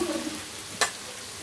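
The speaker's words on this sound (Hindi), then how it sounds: "फिर हम प्याज को अच्छी तरह से फ्राई करेंगे" Onions frying in a pan after chicken has been browned and removed, a soft steady sizzle with one brief scrape of stirring near the end, quiet and close.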